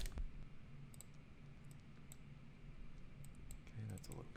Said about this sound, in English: let's just type in pipe